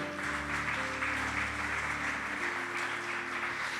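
A church congregation claps together in a sustained burst of applause for the Lord, with steady organ or keyboard chords held underneath throughout.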